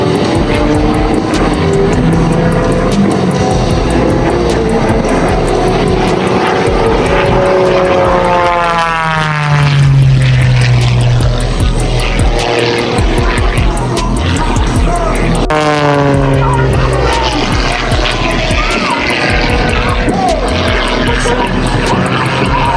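An aerobatic propeller airplane performing at the Quad City Air Show. The engine drones loudly and steadily, and the pitch sweeps downward as the plane makes two low passes overhead.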